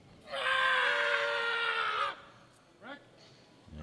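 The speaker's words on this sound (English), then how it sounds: "And puts in his big scream and it goes to the top." A powerlifter in the men's 120 kg class at a world classic powerlifting championship lets out a long, loud, strained scream lasting about two seconds during a lift, followed by a brief fainter vocal sound.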